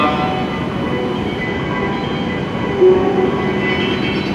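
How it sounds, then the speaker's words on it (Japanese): An E7 series Hokuriku Shinkansen train departs a platform at Kanazawa station with a steady low rumble and hum, loud and close, with a brief electronic tone or chime partway through. "12番乗り場より白鷹566号東京行き発車いたします。"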